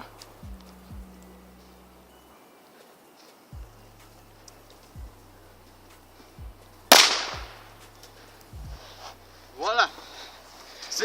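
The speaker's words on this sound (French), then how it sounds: "C'est un pétard à confetti." A confetti firecracker goes off outdoors with one sharp, loud bang, followed by a fading crackle, while a tractor-like engine hums low and talk breaks in around it.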